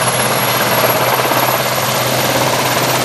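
A large RC model helicopter's engine and rotor run as a loud, steady, close whine and drone that stays even while throttling up toward lift-off.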